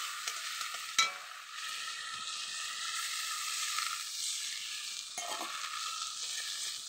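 Curry stirred in a hot pan, a steady close sizzle with a sharp clatter of the spoon near the start and another scrape later, continuing without any voices.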